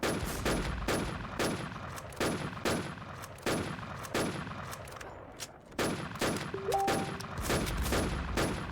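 Gunfire in the online survival shooter WarZ: rapid, loud bursts of automatic shots repeat in a steady rhythm, with a brief lull partway through and a short electronic tone near the end.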